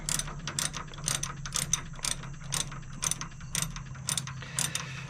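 A ratchet wrench turns an 11/16 bolt on a Model A Ford's original generator, giving off a steady run of quick, close, loud ratcheting clicks in regular bursts over a low background hum.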